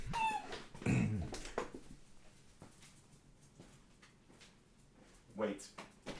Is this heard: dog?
yes